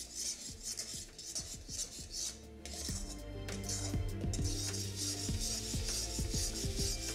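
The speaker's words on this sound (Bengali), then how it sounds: "এবার এই টমেটো, পোস্ত আর সর্ষের পেস্টটাকে ভালো করে কষাতে থাকুন" A tomato, poppy seed and mustard paste is stirred in a pan over a low flame, with soft, repeated scraping and clinks of a utensil against the pan while a low tonal hum runs underneath.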